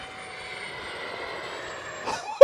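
A Freewing V2 A-10 RC model jet with twin 80mm electric ducted fans flies over a grass field, its steady high-pitched whine fairly faint and constant, ending in a brief sharp burst.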